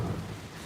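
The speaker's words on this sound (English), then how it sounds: "The rain sounds really nice." Steady rain falls with a dense hiss and a low rumbling undertone like distant thunder, moderately quiet and continuous, with no voices.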